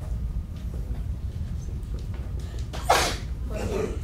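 A single sharp sneeze bursts out fairly close, followed by a softer second sneeze, over a low background hum.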